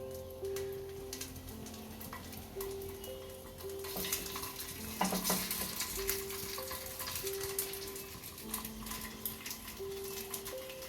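Sabudana vada, round patties of tapioca pearls, frying in hot oil, a steady close sizzle with light stirring touches and a brief louder spatter midway, under soft background music.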